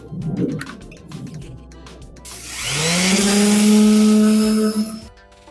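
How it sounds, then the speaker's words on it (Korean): A steady, loud whirring power sander runs for about two and a half seconds on the inner face of a wooden greenhouse frame post, after some softer scraping and handling noises, then cuts off. "기둥 내면을 샌딩 작업을 할 거고요"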